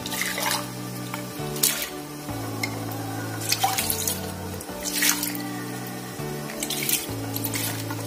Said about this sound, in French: Et j'ai de l'eau, là j'ai pris 800 ml d'eau.